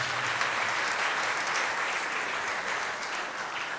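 Audience applause at a French comedy gala show, a dense, even wash of clapping from a large crowd that holds steady throughout.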